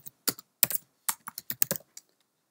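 Quick clusters of crisp key clicks come from typing on a Mac computer keyboard in a quiet room, close and distinct, with short pauses between bursts.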